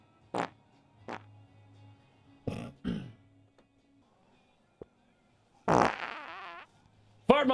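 A run of loud, sputtering farts breaks in short bursts between quiet gaps, with one longer rasping blast near the end, close up, and voices briefly reacting in between.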